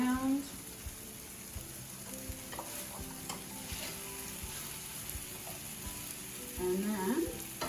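Frozen vegetables for biryani sizzle in a hot pan while being stirred, a steady soft frying hiss broken by scraping strokes, with faint talk at moments.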